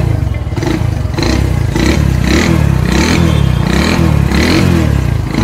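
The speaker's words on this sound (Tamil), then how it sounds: "இது தாங்க CD சீரீஸோட ஒரிஜினல் எக்ஸாஸ்ட் சவுண்டு." Honda CD 100 series motorcycle running on its original exhaust, a loud close engine with a steady rhythmic thump and periodic surges.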